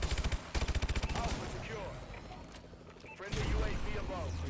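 Gunfire in the video game Killing Floor 2: rapid bursts of automatic shots open the clip, followed by other loud in-game combat sounds and a further burst near the end.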